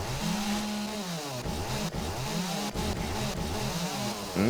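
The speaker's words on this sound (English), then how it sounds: "Oh, here comes the screamer from the chainsaw." Chainsaw in the 7 Days to Die video game, wielded by a screamer zombie: a loud, continuous two-stroke engine drone with repeated revving surges and pitch sweeps, no talk over it.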